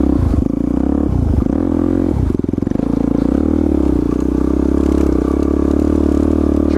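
A supermoto motorcycle sliding in e-brake drifts, its engine droning loud and close with repeated dips and swells in pitch as the throttle is blipped and rolled on.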